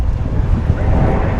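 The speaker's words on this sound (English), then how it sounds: "Dude, this wind is kicking right now." Strong wind roaring over the microphone on a small fishing boat with a trolling motor, a steady loud rushing buffet with low rumble throughout and no voices.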